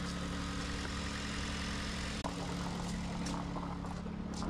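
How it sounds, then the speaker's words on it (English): A 2012 Kia Optima Hybrid engine idles steadily and close by, a continuous low hum with one brief dropout partway through, with no talking. "the engine is running"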